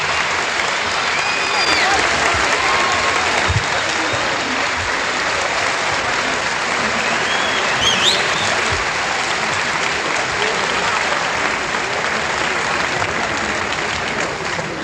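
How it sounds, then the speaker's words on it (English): Sustained, dense standing ovation applause from a large crowd in a Ball State University gymnasium at a Robert F. Kennedy campaign address, steady and loud throughout with a faint murmur of voices mixed in. "He is receiving a standing ovation from the crowd."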